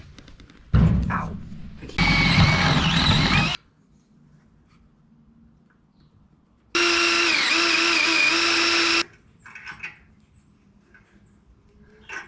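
Power drill working on a budget car exhaust mounting, two loud bursts of several seconds each separated by quieter shop noise, with faint clatter afterward.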